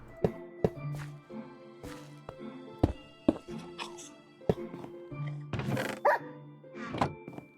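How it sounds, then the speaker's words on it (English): Dog barks from a Minecraft game, short sharp yips scattered among dull thunks and tapping footsteps, fairly quiet with some low background sound between them. "The new dog sounds, man. I cannot handle them."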